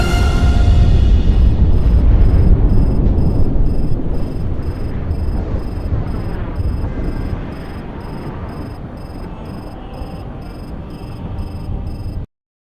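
An explosion in the combat flight game Project Wingman erupts as a loud deep boom, then a long rumbling roar fades slowly over about twelve seconds, heard alone without talk.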